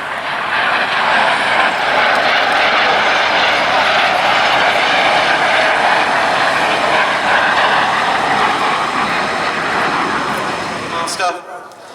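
A Jet Provost leads a Strikemaster jet in a topside flypast at the Duxford Air Festival, a loud, sustained jet roar that stays strong throughout before cutting off abruptly at the end.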